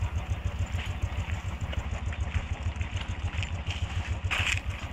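A motorcycle rolls slowly down a short slope at Lamahatta, Darjeeling, giving a steady, low engine rumble at moderate distance with no breaks.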